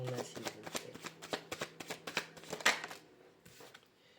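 An oracle deck is shuffled up close in a steady series of soft, rhythmic card riffles that stop after about three seconds, leaving quiet.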